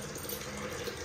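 Rice rinsed in a kitchen under a running tap, water streaming steadily and close, a continuous broadband splash and gurgle with no speech over it.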